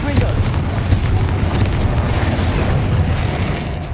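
Confringo blasting spell explosions in Hogwarts Legacy, a dense, continuous rumbling roar of booms with crackling bursts, loud and close, mixed with spell-casting voices and game effects.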